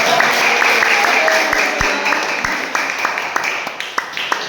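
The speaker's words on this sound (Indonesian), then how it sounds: "tepuk tangan dulu buat Nak Muji" A small classroom group claps for a student, scattered sharp hand claps close by that thin out over the seconds, with a voice talking underneath.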